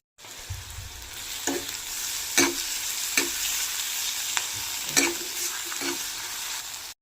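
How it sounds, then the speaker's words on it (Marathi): Dried shrimp and onion sautéing in a pan for a village-style shrimp curry, with a steady sizzle under scattered sharp scrapes and stirring knocks from a spatula, close and fairly loud. "मी कांद्यासोबतच सुकट छान अशी परतून घेणार आहे"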